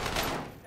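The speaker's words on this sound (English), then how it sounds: "Taking heavy fire here." Dense, rapid gunfire in the Warzone video game on Rebirth Island, a brief loud burst of overlapping shots filling the moment.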